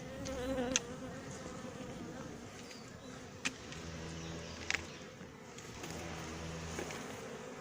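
Honey bees buzz as they lift off from a hive in an apiary at Montgeron, a soft continuous drone with a few individual bees passing close to the microphone.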